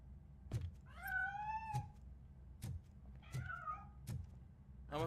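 Cat meowing in the video game RoboCop: Rogue City, two distinct drawn-out meows separated by repeated dull thuds and knocks, all fairly close and clear with no talking.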